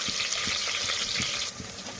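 Chopped onions frying in a pan over high heat, a steady bright sizzling hiss throughout with soft stirring scrapes underneath, close and continuous.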